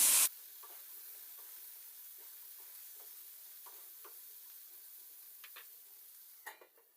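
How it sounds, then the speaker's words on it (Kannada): Potato and capsicum frying in a pan, a soft continuous sizzle with faint periodic stirring taps, quiet and close, ending with a slightly louder clink. "ಇದನ್ನು ಕೂಡ 1-2 ನಿಮಿಷ ಫ್ರೈ ಮಾಡ್ಕೊಳ್ಳೋಣ."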